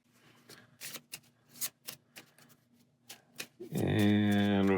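Cards from a Sentinels of the Multiverse board game deck shuffled by hand, a run of brief crisp riffling bursts over a few seconds before a loud tonal sound takes over near the end.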